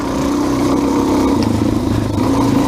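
A Suzuki DRZ 400 dirt bike idles loudly with its exhaust baffle removed, a raw, steady throbbing putter with slight rhythmic clatter.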